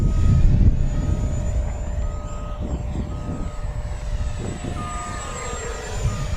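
A small HobbyZone Arrows RC BAE Hawk 50mm electric ducted-fan jet flies at full throttle, a steady high-pitched whine with a constant tone holding loud over wind noise for the whole stretch, no voices.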